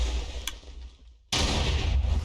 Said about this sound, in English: you hear the dispenser firing off before the cannon does